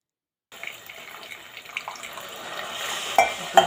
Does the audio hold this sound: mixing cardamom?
yes